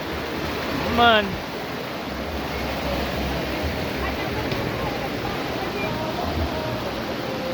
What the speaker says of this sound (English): Ever see wave in a river yet?